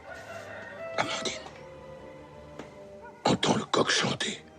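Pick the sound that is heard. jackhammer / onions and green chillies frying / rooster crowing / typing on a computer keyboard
rooster crowing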